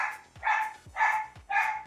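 Dogs bark in three short, evenly spaced bursts, each a sharp yelping bark with a brief pause between, fairly close and clear with no talk over them.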